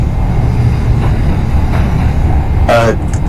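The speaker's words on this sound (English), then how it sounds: "Yeah, I'm running an 8-car train." Simulated NYC Subway R68 eight-car train running in the OpenBVE game, a steady low rumble throughout with a brief higher squeal or hiss near the end.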